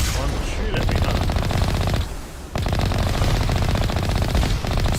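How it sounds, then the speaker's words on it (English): Rapid machine-gun fire rattles loudly in the Mass Effect video game as the Mako vehicle fights enemies, bursts running almost continuously with a brief pause midway. "See what happens when you shoot at me in a Mako?"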